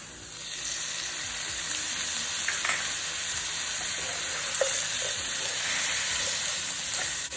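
Streaky pork with soy sauce is stir-fried slowly over low heat, making a steady, hissing sizzle close by with a few faint stirring taps and no talking.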